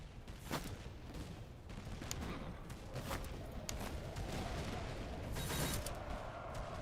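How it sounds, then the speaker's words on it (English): Distant enemy artillery rumbles in a Master of Command battle, a steady wash of booms and crackling volleys with several sharper blasts standing out against a dense, continuous din. "This is all enemy artillery, by the way."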